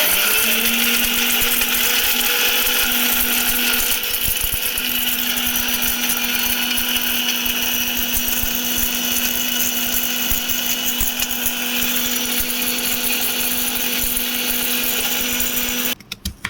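Mixer grinder blending poppy seeds, cinnamon, cardamom and cloves with water into a paste, a loud steady whirring drone holding constant for about sixteen seconds before cutting off abruptly.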